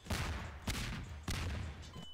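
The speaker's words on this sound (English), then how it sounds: "Lemon launcher." Lemon launcher firing in Garry's Mod, three loud bursting launches in quick succession, each a heavy whooshing blast that sustains briefly before the next, close and with no talking.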